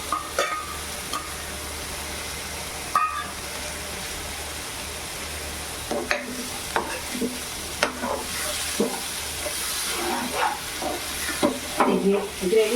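Tomato paste frying and being stirred in a pan for an eggless egg curry masala gravy, with onion, garlic, ginger and cumin, steady sizzling under scraping stir strokes, close and continuous with a few louder clatters.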